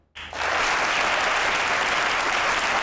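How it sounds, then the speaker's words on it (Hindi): Studio audience of a Pakistani Eid comedy show bursts into loud, sustained applause after a brief silence, steady clapping filling the room without a break. "अब बजाएं ताली।"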